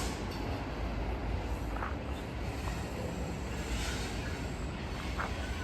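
A train rolls past along the Seattle waterfront on a bright day, a steady continuous rumble and rail clatter that stays loud and even throughout with no voices.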